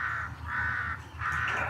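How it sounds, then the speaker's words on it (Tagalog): Crows cawing nearby outdoors, three drawn-out harsh caws in a steady rhythm, moderately close and heard alone without talk. "Ang ingay ng uwak."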